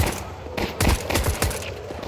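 Pistol gunfire in a Counter-Strike 2 match at a playoff event, several sharp shots in quick succession over game noise, with a faint voice underneath.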